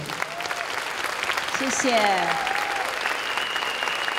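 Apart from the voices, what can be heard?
audience applause at closing ceremony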